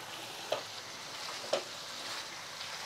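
Cauliflower stalk with potato, radish and other vegetables frying dry in a pan, giving a soft continuous sizzle with two sharp utensil clicks about a second apart, fairly quiet and close.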